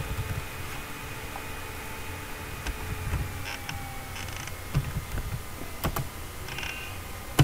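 A computer keyboard clicks as commands are entered into the STAAD Pro structural modelling editor, with scattered, close keystrokes over a steady background hum.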